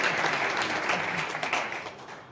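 Audience applause at a direct-selling seminar hall, a steady wash of many hands clapping at moderate distance, tapering off slightly toward the end.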